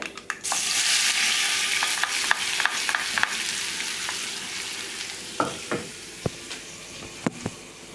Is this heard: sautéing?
yes